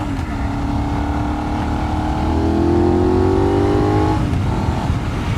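A Benelli 752S motorcycle engine revs and accelerates loudly, its pitch climbing steadily before dropping off as it shifts, with a steady rumbling drone throughout.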